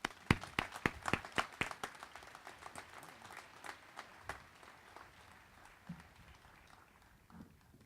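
Audience at a 2013 commencement ceremony applauding to welcome speaker Judge Stephen Trott: a burst of sharp, fairly close claps that thins out and fades to scattered taps within a few seconds.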